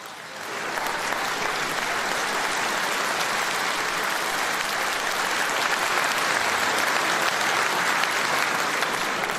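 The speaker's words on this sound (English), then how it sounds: "this is the first time ever that a crowd in Sunderland have stood up and cheered you" A crowd at a political rally in Sunderland, County Durham, applauding and cheering, with loud, dense, sustained clapping that swells in quickly and holds steady throughout.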